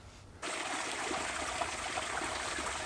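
Natural spring water beside a roadside runs steadily from a pipe, a continuous close trickle and splash that starts abruptly after a brief quiet moment and holds even throughout.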